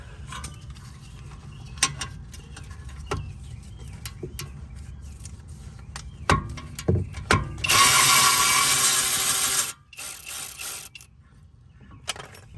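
A ratchet wrench breaks loose the front brake caliper bolts on a BMW 330, giving a run of sharp clicking pawl strokes and clanks, then a loud sustained burst of rattling mechanical noise before it quiets.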